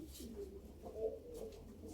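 Soft, low cooing of pigeons, a few murmured calls over a quiet steady background hum.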